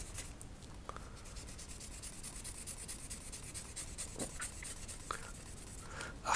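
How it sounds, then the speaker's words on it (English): Close, faint rubbing and scrubbing as a Bang & Olufsen circuit board is polished, a continuous soft abrasive hiss with a few light taps and scrapes. "I think as I'm polishing this, I've got a feeling some of the traces have entirely gone"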